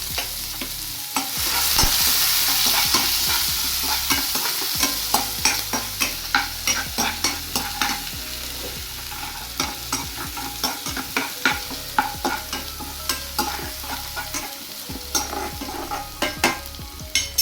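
Finely chopped onion frying in oil with already-fried mustard seeds in a home-style kitchen pan: a steady sizzle that settles into a regular rhythm of spoon scrapes and stirring strokes, close and moderately loud.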